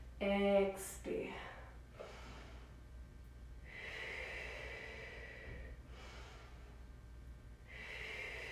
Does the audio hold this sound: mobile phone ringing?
no